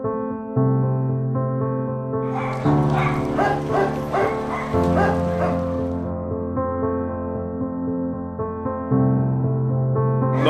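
Dogs at a shelter let out a quick cluster of yipping barks over a steady droning tonal background that holds before and after the barking.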